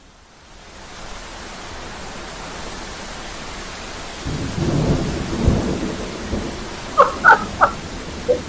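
Steady rain hisses throughout, then a deep rumble of thunder rolls in midway, followed by several sharp knocks or taps near the end.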